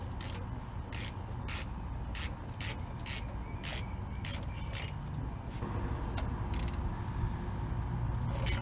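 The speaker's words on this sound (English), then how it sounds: "Is a nut coming off of a stud that's holding the dipstick." A nut is ratcheted off the stud of a small dipstick hold-down bracket on a C30 RV engine, giving repeated quick metallic ratchet clicks in short bursts over a low, steady background hum.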